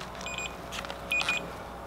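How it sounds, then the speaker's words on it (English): A multimeter continuity check on a car's 12-volt accessory plug gives two short, clean electronic beeps, a brief pause between them, quiet and alone. "So if we have continuity across this thing, we should be hearing a beep here."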